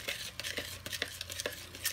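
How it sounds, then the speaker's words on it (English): A titanium dioxide mixture for soap gets a quick stir, producing a faint, close, continuous swishing with soft rhythmic clicks of the utensil against the container. "So I'm just going to give this a little quick stir,"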